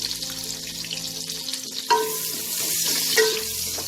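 Chopped onion dropped into hot oil with cardamom, cloves and cinnamon for a soya pulao, frying with a steady close sizzle, a couple of sharp stirring knocks against the pan partway through.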